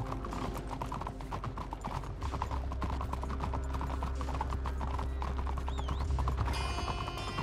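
Steady clip-clop of horse hooves at a walking pace in Red Dead Redemption 2, over a continuous in-game ambient backdrop, with a brief higher tone near the end.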